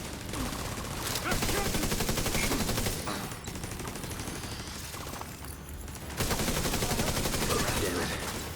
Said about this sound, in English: putting your turret up there, even though it can shoot at everything